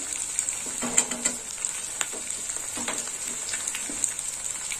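Ginger-garlic paste and turmeric powder sizzling in a pan for an eggplant curry with Bombay duck fish, with a steady fry hiss and occasional soft stirring scrapes, close and moderately quiet.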